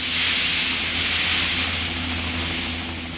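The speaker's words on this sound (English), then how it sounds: "We had a helicopter supplied by the Chinese army, and we used it to search along the Darim River" A helicopter supplied by the Chinese army flies along the Darim River, a steady loud broadband roar with low rotor throb, continuous and close, easing slightly toward the end.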